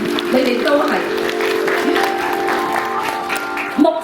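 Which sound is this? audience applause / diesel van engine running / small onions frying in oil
audience applause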